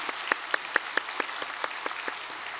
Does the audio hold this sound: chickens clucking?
no